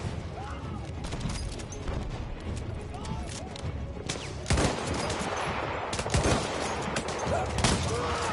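Rifle gunfire from German weapons in the World War I shooter Battlefield 1, with sharp cracks and heavier booms over a constant din of distant battle, the loudest shots landing around the middle and late stretch.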